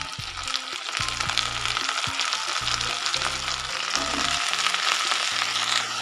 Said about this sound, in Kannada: ಈಗ ಹಚ್ಚಿರೋಂಥ ಬದನೆಕಾಯಿನ ನಾವು ಒಗ್ಗರಣೆಲಿ ಹಾಕೋಣ